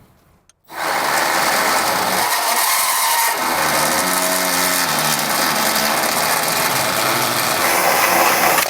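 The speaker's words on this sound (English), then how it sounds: "I have got a die grinder bit just installed into this drill, and we're going to enlarge this hole right here" A drill fitted with a die grinder bit grinds steadily to enlarge a hole in the frame of a 2022 Ford Escape, a loud continuous whine that starts abruptly after a brief quiet moment and runs unbroken to the end.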